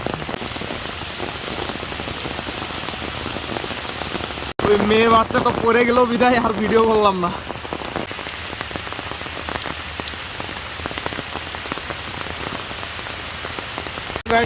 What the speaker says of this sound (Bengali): বৃষ্টি প্রচন্ড হইতেছে